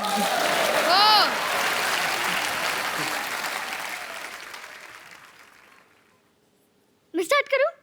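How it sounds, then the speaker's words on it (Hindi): A studio audience at a comedy talk show bursts into loud applause that slowly fades out, followed by a brief burst of vocal sound at the end. "ठोको ताली।"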